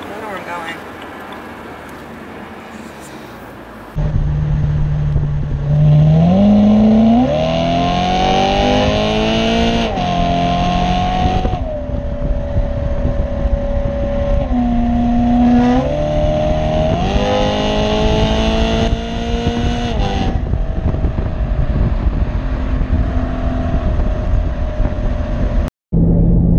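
A BMW E93 M3 convertible drives on the road. Its engine drones steadily and rises and falls in pitch as it accelerates and shifts, with a muffled cabin sound throughout.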